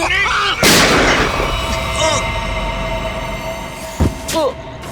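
A single loud gunshot cracks out near the start of a TV crime drama scene, then echoes away under dramatic music with sweeping tones and a few later thuds.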